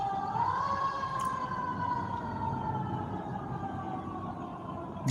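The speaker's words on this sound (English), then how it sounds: "You hear them sirens?" Emergency vehicle sirens wail outside in a steady, sustained tone that rises and slowly falls, heard from a distance over continuous low background rumble.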